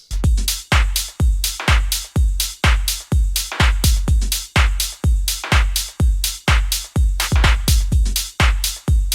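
Full electronic drum percussion mix playing together in a steady, fast groove of punchy kicks and bright hits, loud and close, with no voices.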